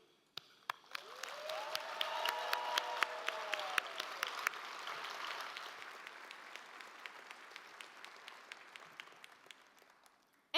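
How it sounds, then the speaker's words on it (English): An audience at an anniversary celebration breaks into applause, the clapping swelling quickly and then slowly thinning out, with a few distinct claps standing out and a brief cheer or whistle early on. "let's first give a round of applause for Sue"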